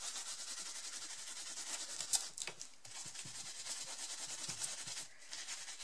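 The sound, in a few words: paper towel rubbing over embossed card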